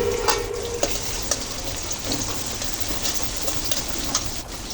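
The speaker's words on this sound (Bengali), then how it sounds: "পেঁয়াজগুলো ব্রাউন কালার করে ভেজে নিতে হবে" Chopped garlic and onion fry in a pan, giving a steady, dense sizzle with a few sharp crackles, continuous and close for the whole stretch, with no one speaking.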